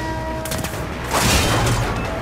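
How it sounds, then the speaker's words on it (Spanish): A burst of gunfire in the Warframe video game crackles loudly for about a second, set against a droning in-game background hum. "Están disparando."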